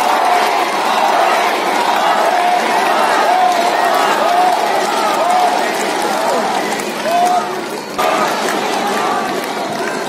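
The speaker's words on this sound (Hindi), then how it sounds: "ताली बजाइए लोग।" Large crowd at a Prime Minister's political rally in Pasighat, a loud, steady wash of clapping and cheering voices that continues throughout, dipping briefly near the end before resuming.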